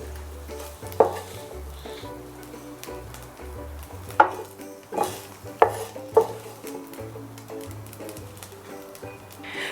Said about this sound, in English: Continue stir frying until it's almost dry.